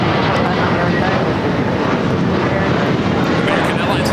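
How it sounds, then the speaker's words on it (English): An American Airlines Airbus A321 jet airliner roars loudly and continuously nearby, a dense, steady engine rumble with people talking underneath it. "American Airlines Flight 2201 heading to JFK at A321."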